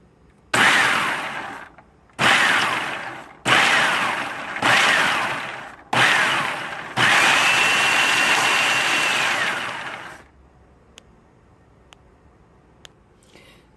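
A food processor pulses about 1.5 cups of garbanzo beans in five short, loud whirring bursts, then one longer continuous grind. Quiet clicks and handling noises follow.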